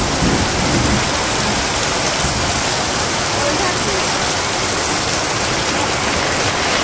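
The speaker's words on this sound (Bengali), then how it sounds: "তো বৃষ্টি মোটামুটি ভালোই হইতেছে।" Heavy rain pours down in a Bangladesh village as a dense, loud, unbroken hiss of water striking surfaces, with a low rumble beneath it.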